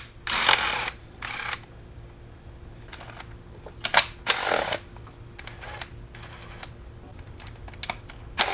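A power tool spins out the valve cover bolts on a 2017 Honda Civic Si in short, close, loud bursts of whirring, separated by pauses and light clicks and handling noises.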